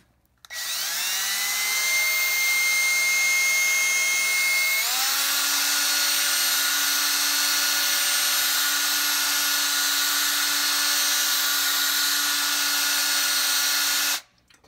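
A power drill with a paddle spins drywall mud in a Mud N' More mix bowl, a steady loud whine running about fourteen seconds that shifts pitch once partway through, then stops abruptly.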